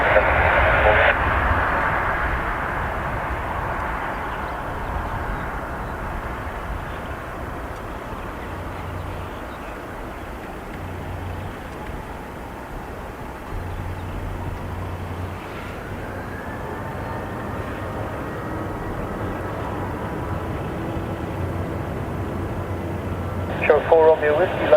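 A Ryanair jet taxis at Dublin Airport with a steady, fairly loud engine roar and a slowly rising whine, while radio chatter plays over it.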